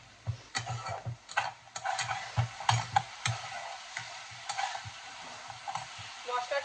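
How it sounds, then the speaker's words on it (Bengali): Ground salt, turmeric, chilli and cumin spices fry in a pan, with a soft sizzle under repeated scraping stir strokes in an uneven rhythm, close and moderately loud. "মশলাটাকে কষিয়ে নেব"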